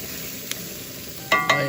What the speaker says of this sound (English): These wieners, of course, are previously cooked, so they just need to be sauteed and warmed up and browned just a little in this cast iron frying pan